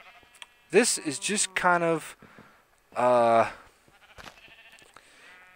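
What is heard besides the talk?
sheep bleating in Minecraft video game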